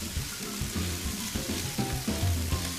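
Onions sautéing in a pan, a dense steady sizzle with low rumbling hum and faint bubbling throughout, no speech.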